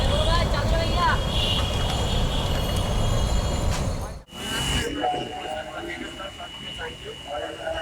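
A train passing near Curzon Hall at Dhaka University, a loud steady rumble of rolling wagons for about four seconds that cuts off abruptly, followed by quieter street ambience with people talking.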